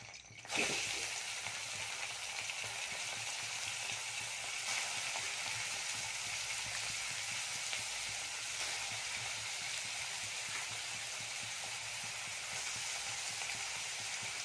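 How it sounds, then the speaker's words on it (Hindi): Prawns fry in hot oil for a prawn curry, a steady dense sizzle that starts abruptly and runs unbroken at an even level, close and fairly loud, with no voices. "एबे हमर तेल गरम होने से चिंगुड़ी पकई नबा।"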